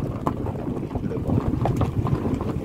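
Wind sweeps across a hilltop Alphonso mango orchard in Shirgaon, Devgad, a steady gusty roar buffeting close to the microphone throughout.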